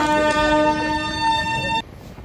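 A train horn at Gour Malda station around 2 a.m. gives one loud, steady, close blast that stops abruptly, leaving faint station ambience.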